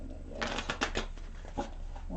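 A short run of crisp tarot-card shuffling clicks and riffles, fairly close, with a few distinct taps in quick succession against quiet background hiss.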